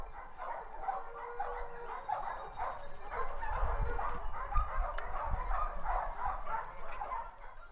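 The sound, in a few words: hunting dogs barking at boar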